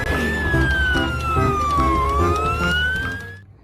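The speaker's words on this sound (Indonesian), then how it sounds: "Mobil ambulan." A toy ambulance wails with a loud electronic siren, its pitch sliding slowly down and back up over a busy music-box-like tune that plays along without any talking.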